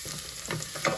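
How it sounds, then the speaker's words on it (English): Minced garlic crackles softly in a pot of barbecue sauce as it is stirred, a quiet sizzle with two short scraping bursts from the spoon. "Moving that garlic around so it does not burn."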